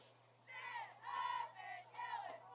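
Crowd at a high school football playoff game chanting and cheering in waves led by a state championship cheerleading squad, voices swelling and falling in rhythmic bursts at moderate distance.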